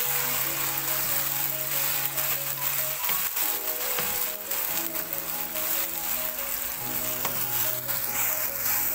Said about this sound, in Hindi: अब हम इसमें ऐड कर देंगे अदरक लहसुन का पेस्ट, इसको 1-2 मिनट सोते कर लेंगे अच्छे तरीके से